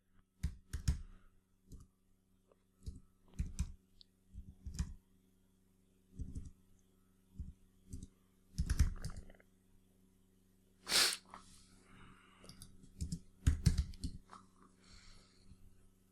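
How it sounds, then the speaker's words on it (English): Typing on a computer keyboard in short, sparse bursts of clicks separated by quiet gaps, close and fairly faint. "Let's type in 8th day."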